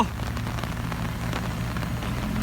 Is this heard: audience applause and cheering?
no